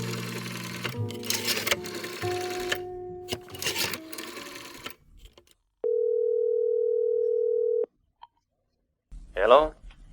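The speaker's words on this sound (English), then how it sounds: "dropped a nickel in the slot, and dialed" A payphone in a drugstore in an old radio drama: a clinking coin drop and clicks, then a steady dial tone for about two seconds, silence, and a brief rattle of dialing, with voices heard earlier.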